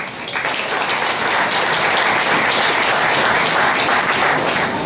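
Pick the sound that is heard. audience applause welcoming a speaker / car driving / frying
audience applause welcoming a speaker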